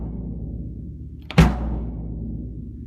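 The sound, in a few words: 1970s Japanese bass drum being played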